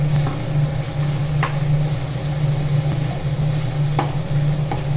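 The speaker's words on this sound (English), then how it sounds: "You have to fry it" Garam masala and meat masala frying in a pan while being stirred, a steady close sizzle with a low hum beneath and occasional sharp scrapes of the spoon, no talking.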